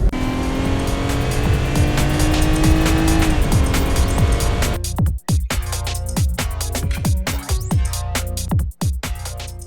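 A van drives with a motorcycle loaded inside: a loud, steady engine drone, then rattling clicks and thumps from the cargo as it rolls along.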